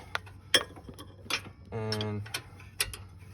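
Wrench working a rear brake bolt on a 2017 Nissan Murano, with scattered sharp metallic clicks and clinks and a brief buzzy ratcheting burst in the middle, close and fairly quiet.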